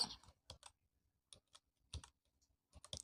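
A person types a name on a computer keyboard in short, separated bursts of key clicks with quiet gaps between them, close and fairly soft.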